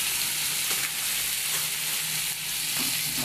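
Ground meat frying in oil in a pan, a steady, close, broadband sizzle that continues without a break, with soft scrapes of stirring now and then.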